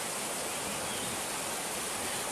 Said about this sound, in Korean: 폭포가 나타났습니다.